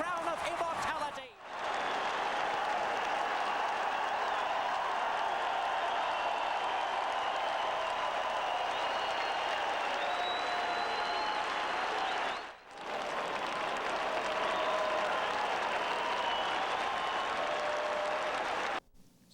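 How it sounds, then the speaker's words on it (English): Racetrack crowd roars and applauds for the champion thoroughbred Cigar after his sixteenth straight win, a sustained wall of cheering broken by two short cuts, with whistles rising through it. "The crowd rises to a champion."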